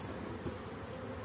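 Honey bees buzzing at a hive while sugar syrup feeding is set out, a steady close insect hum with no talk.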